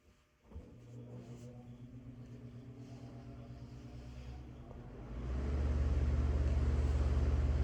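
A motor starts with a thump and settles into a steady hum, then a fan kicks up to a louder, constant low drone near the microphone, run to clear chainsaw exhaust fumes.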